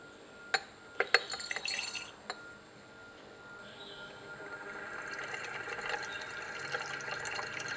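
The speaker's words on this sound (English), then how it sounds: "And now we'll add the potassium hydroxide flakes." Glassy clinks and ticks as potassium hydroxide flakes are dropped into a glass flask, a few sharp hits early on, then a steady hiss of stirring liquid building in the background.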